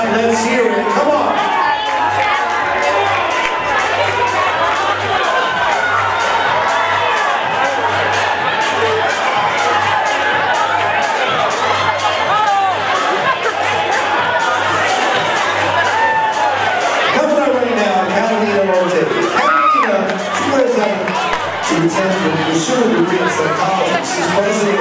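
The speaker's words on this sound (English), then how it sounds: "And clap, let's hear it" Crowd at a high school graduation fashion show fundraiser cheering and clapping in a busy room, a dense continuous roar of voices and applause carrying on for many seconds under amplified announcing.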